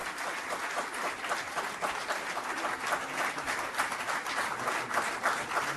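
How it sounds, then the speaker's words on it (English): A large audience at an ICAI oath-taking ceremony for chartered accountants gives a sustained, even round of applause, dense and steady from start to finish with no speech over it. "Please give them a big round of applause."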